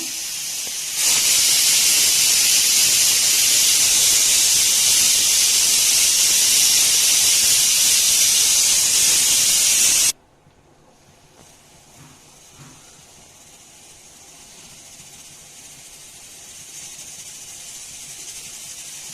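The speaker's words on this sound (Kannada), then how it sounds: "ಈಗ ಕುಕ್ಕರ್ ವಿಷಲ್ ಕುಗ್ತಾ ಇದೆ" A pressure cooker whistle blows while egg pudina bath cooks on a kitchen stove, a loud steady steam hiss lasting about nine seconds that cuts off abruptly, leaving a faint, quiet room tone.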